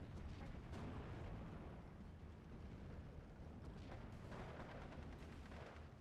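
Artillery fire in the real-time strategy game Steel Division 2 rumbles as a low, faint stream of distant booms and bursts, overlapping into a continuous roll with a few sharper hits.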